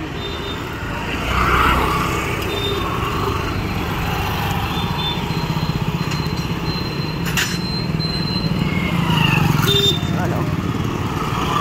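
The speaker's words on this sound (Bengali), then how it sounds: "দাঁড়াও, বাইক আসছে" A motorbike approaches along a road, its engine a steady loud rumble that builds from the first seconds and stays strong throughout, with voices faintly beneath.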